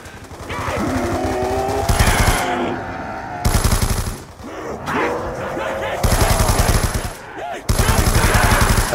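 Automatic gunfire against zombies in Black Ops 2 Zombies, several long rapid bursts separated by short pauses, loud and close, with game sounds and a voice between bursts.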